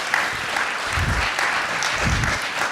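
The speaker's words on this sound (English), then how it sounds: "let's give her a round of applause" A crowd at a university creative campus event applauds a musician, a continuous wash of clapping at moderate loudness with a few soft low thumps underneath.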